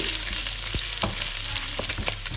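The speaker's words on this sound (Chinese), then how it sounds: "热锅倒油，放入生姜爆香，加入火腿，炒出香味。" Ginger and ham frying in a hot wok of oil, a steady close sizzle with several sharp spatula scrapes and clanks against the pan, no voices.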